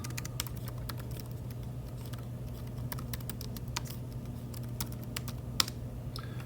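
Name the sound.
typing a password on a Chromebook keyboard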